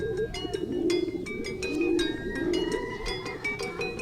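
Racing pigeons coo and call repeatedly at close range, several birds overlapping in a continuous, busy chorus.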